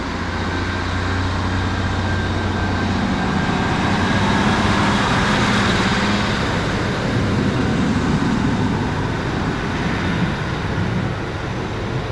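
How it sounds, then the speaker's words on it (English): Transport for Wales train 153318, a single-car diesel unit on the 10:47 service to Crewe, passes at Shrewsbury with a loud, steady rumbling roar that fills the scene without talk. "there goes 153318. That is the 1047 Transport for Wales service to Crewe"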